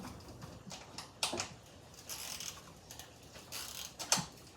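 Ratchet clicking as valve cover bolts on a car engine are tightened in a crisscross pattern, quiet bursts of rapid clicks separated by brief pauses.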